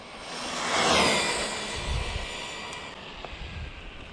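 A Rlaarlo Omni Terminator RC car makes a full-throttle speed run, its high whine sweeping past in a rising and falling rush that peaks near the start and fades quickly into faint outdoor noise.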